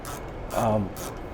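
A bearing puller works on the front bearing of a Probat coffee roaster, giving a short metallic ratcheting grind with a creaking groan in the middle, against a steady background hum.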